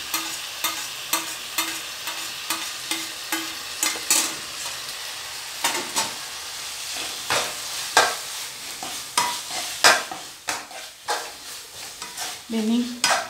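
Peeled tomatoes sizzle and fry in a pan for a mushroom masala curry, with a spoon stirring and scraping in steady, repeated strokes close by over a constant hiss.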